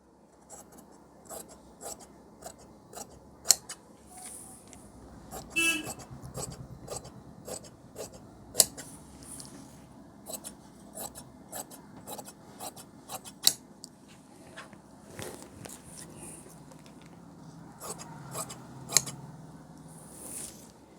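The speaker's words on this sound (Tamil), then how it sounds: "இப்போ இதை அப்படியே கட் பண்ணிடணும்." Scissors cut through blouse fabric on a tailoring table in a steady series of soft, close snips and rasping slides, with no talking.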